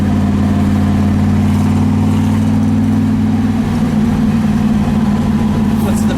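On a ride, the engine of the 1960 Cunningham Corvette, the first Corvette to finish the 24 Hours of Le Mans, gives a loud, steady low drone from close by. The pitch shifts slightly partway through, and there is no clear talk over it.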